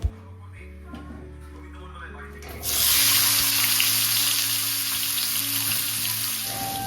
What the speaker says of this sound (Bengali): আমি এখন আলু ভাজা করেছি,